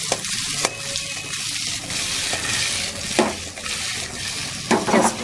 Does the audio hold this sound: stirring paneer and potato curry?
yes